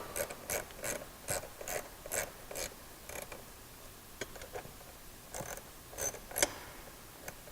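A ratchet with an 8mm socket tightens factory screws on a Jeep Wrangler JL 3.6L, giving close, crisp bursts of rapid clicking with short pauses between strokes.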